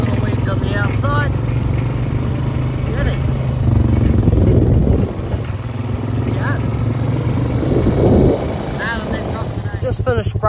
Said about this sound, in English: Motorbike in there to go spray these little weeds on the outside.